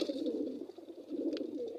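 Pigeons at a loft coo softly and continuously at close range, their low murmuring calls steady throughout with no talk.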